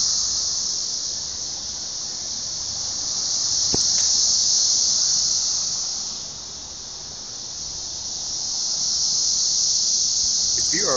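A swarm of cicadas in Nashville makes a dense, continuous high buzz that slowly swells and fades in waves. A brief click breaks in partway through.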